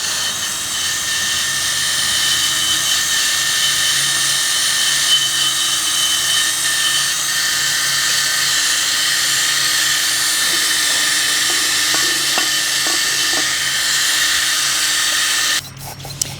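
Wire brush spun by a drill scrubbing rust off a brake caliper, a loud continuous high whine and scratch that runs steadily, then shifts to a harsher burst near the end.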